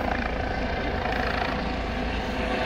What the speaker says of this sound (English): There's a helicopter. And I think he wants to land on me.